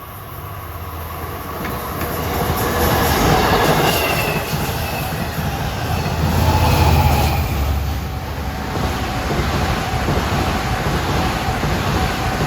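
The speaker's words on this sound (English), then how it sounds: "First is 37 from Spionk to Long Island City, followed by 1917 from Ronkonkoma to Penn. The race is on." LIRR commuter trains racing past on the triple track at New Hyde Park during morning rush hour, a loud rushing roar with rumbling wheels and faint squeal building and swelling as the cars pass close by.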